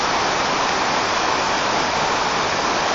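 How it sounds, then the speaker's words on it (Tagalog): Lower river below Wawa Dam pouring over rocks, a loud, constant broadband rush of water close by with no other sounds. "Ito po yung lower river ng Wawa Dam."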